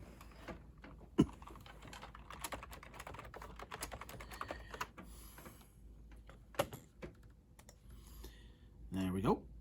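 Fingers tap out a password on a computer keyboard attached to a Dell Dimension 4600, quick irregular clicky keystrokes at moderate volume over a low background hum, with a voice speaking faintly at times.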